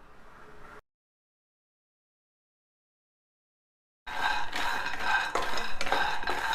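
Peanuts poured into a hot pan on a stove and stirred for dry roasting for peanut-jaggery burfi, heard after a long silence as a dense, loud rattle of nuts against the pan that continues to the end.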